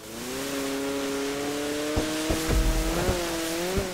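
A car accelerating during an online race in GTA 5, a steady engine drone that rises in pitch, interrupted by several sharp thuds and knocks near the end, with no voices.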